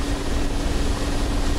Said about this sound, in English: Mi-24 behind a real beefcake of a Soviet helicopter with twin fuselage 30mm cannon